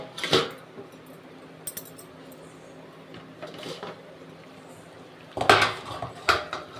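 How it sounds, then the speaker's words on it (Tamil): Metallic clanks and clatter as a pot lid is lifted off omelette egg curry in a home kitchen, a few separate knocks with quiet gaps and a louder cluster of clinks near the end. "இப்போ நம்ம வந்து குழம்ப திறந்து பார்ப்போம் எப்படி இருக்குன்னு சொல்லி"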